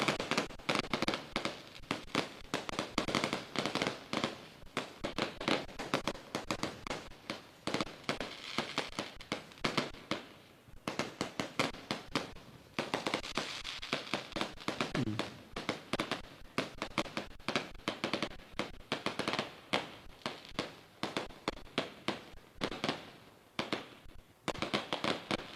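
Firecrackers exploding at a roadside celebration in Rajasthan, a dense, continuous barrage of sharp cracks and pops at close range, with brief lulls, rolling on for the whole stretch.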